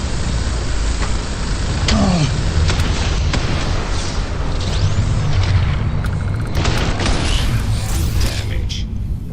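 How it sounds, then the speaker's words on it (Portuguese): Gunfire in Starfield, played on Xbox Series S, sounds as loud repeated shots and booming impacts over a dense, rumbling game soundscape, with sharp bursts spread throughout. "Olha que eu vou atirar."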